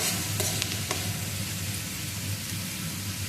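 Onion pieces mixed with turmeric and salt cook in a covered pan, giving a steady, even sizzle and faint stirring scrape throughout, with a low hum underneath and no talking.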